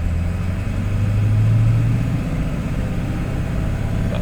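Ford Super Duty OBS Powerstroke diesel truck pulling in second gear near 2,000 RPM at low speed, a steady deep engine drone that stays loud and even throughout, with no voices.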